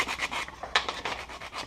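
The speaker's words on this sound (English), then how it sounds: "we're just filing it down" Someone files down the edge of a kydex sheath with rhythmic rasping strokes, about eight of them, close up and alone.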